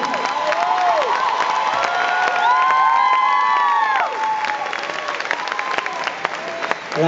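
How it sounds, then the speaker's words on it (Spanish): A concert crowd at The Fillmore in Miami Beach applauds a show, with thick sustained clapping, cheers and high whistles and shrieks rising over it before the noise thins out. "Pido un fortísimo aplauso,"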